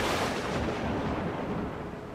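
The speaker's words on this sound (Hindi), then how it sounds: "हर कुछ देर के बाद तेज़ आवाज़ के साथ आसमानी बिजली चमक रही थी।" A loud lightning crack and thunder crash during a storm on the open sea: a dense, roaring burst that holds steady and close for about two seconds, with no voices.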